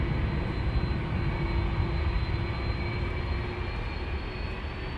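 An Airbus A330-300 jet roars steadily through its takeoff run at Amsterdam Schiphol, a loud, close, continuous engine rumble with a faint tonal whine on top, easing slightly toward the end.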